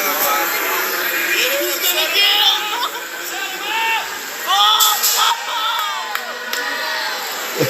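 A crew gathered at a BMX race cheers a rider on with whoops and shouts layered over steady crowd chatter, voices rising in bursts throughout.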